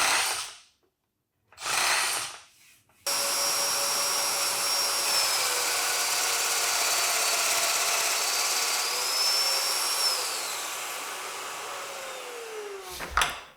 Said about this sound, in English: So I wanna drill those now because they're gonna be really close to the wall.